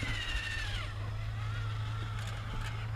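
Traxxas Summit RC crawler truck driving slowly, its small electric motor giving a steady droning whine with a faint rising pitch, fairly close and without talk.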